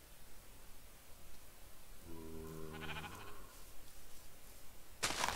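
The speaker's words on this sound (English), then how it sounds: "Red sheep" A red sheep in a video game bleats once, a short wavering bleat rising out of a faint noisy background, followed by a sudden burst of bright noise at the end.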